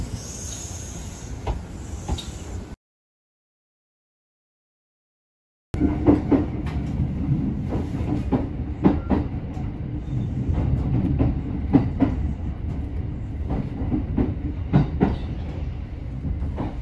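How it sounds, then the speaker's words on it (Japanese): A three-car Kintetsu express train on the Suzuka Line rolls steadily along with a low rumble and rhythmic clacks of wheels over rail joints, briefly cutting to silence before resuming. "鈴鹿線内ですので、ね、3両編成の急行となります。"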